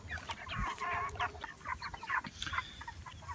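Plump meat chickens cluck and chatter in a rapid, overlapping stream close by, with no talk over the flock.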